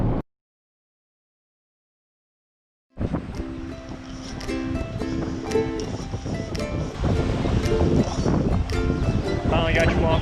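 Ocean waves washing onto a beach at night, a steady broadband roar after a few seconds of silence, with people talking over the surf and some wind buffeting.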